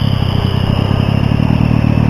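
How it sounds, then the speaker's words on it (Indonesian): A loud, throbbing supermoto motorcycle exhaust rumbles steadily up close on a night ride, its low pulsing drone constant throughout. "mudah-mudahan bukan suara knalpot yang kebanyakan"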